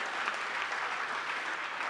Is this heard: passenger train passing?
no